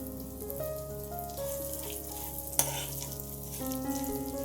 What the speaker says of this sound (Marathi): आता आपण या तुपामध्ये गव्हाच्या शेवया ह्या छान परतवून घ्यायच्या